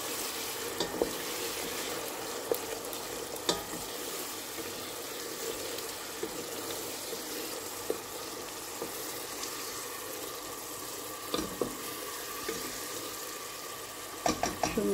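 Masala spice paste frying in oil in a pan for a home-style fish curry, with a steady low sizzle running throughout and occasional scrapes and clinks of stirring, fairly faint and close, with no talk.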